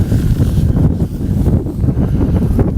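Strong wind buffets the microphone on open water during a striped bass fishing trip from a boat. A loud, continuous low rumble with gusty surges holds throughout, with no voices.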